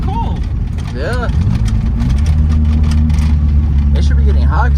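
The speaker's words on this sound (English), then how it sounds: "And the engine's still cold." A Toyota Corolla with a 3TC engine, still cold, rumbles with a loud, low, steady engine drone on a dirt track, with people talking over it throughout.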